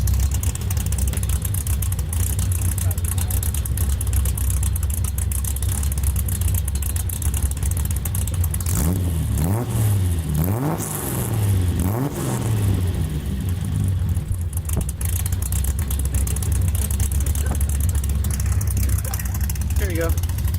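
A Honda Civic's exhaust revs in a few rising and falling bursts mid-clip, over a steady engine drone with people talking throughout.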